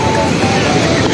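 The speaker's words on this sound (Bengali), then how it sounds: "আর এখন যা ঢেউ মারাত্মক" Rough sea waves at high tide on Kuakata beach, a loud broadband wash of surf with heavy wind buffeting close to the microphone.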